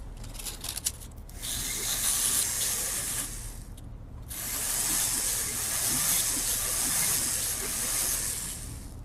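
A tool being sharpened gives a steady, harsh grinding hiss in two long sustained passes, broken by a brief pause near the four-second mark.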